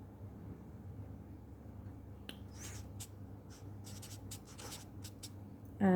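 A pen writing numbers by hand on paper, heard as short, faint scratchy strokes in quick bursts over a quiet background, ending with a louder bump.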